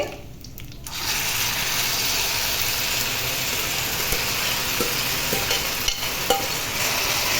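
Okra chutney being stirred in a hot pan with tempering and curry leaves, a steady sizzling fry with scraping spoon strokes running continuously after a brief quiet start, close and fairly loud with no talk.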